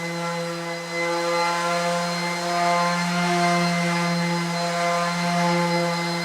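Power sander working across a birch workbench top 36 mm thick, a steady close whine with strong even harmonics droning continuously, with slight shifts in pitch and loudness as it moves and no talking.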